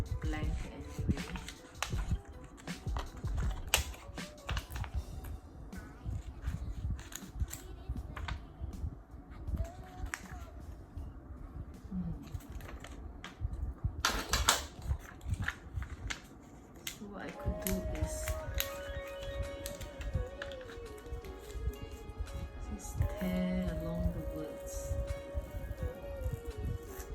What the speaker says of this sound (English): I'm gonna trim out the excess here